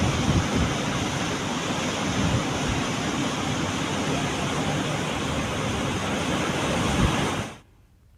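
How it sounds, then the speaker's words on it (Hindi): The flooded Shivnath River pours over an anicut, about eight feet deep over the top. The rush of water is loud and continuous, a dense roar that cuts off abruptly near the end. "इस पर 8 फीट ऊपर से पानी बह रहा है।"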